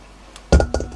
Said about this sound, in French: On va couper un bout à chaque extrémité